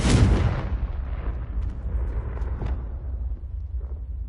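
Confringo blasting spell from the game Hogwarts Legacy bursts in a loud, close explosion, then trails off into a long, rumbling decay with faint crackles. No one speaks.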